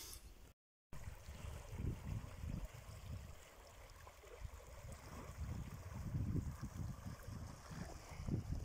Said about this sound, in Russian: Вешние воды.